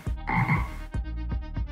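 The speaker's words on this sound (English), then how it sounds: "we're gonna put the frog sound effect" A frog croak sound effect for a game death animation: a loud, close, guttural croak followed by several shorter, rhythmic croaks.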